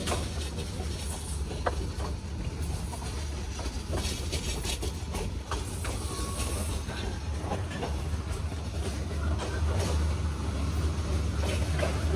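Bijoy Express entering a railway station: steady rumble and rail clatter with scattered clicks and hiss, moderately loud and continuous, growing slightly stronger toward the end, no talk.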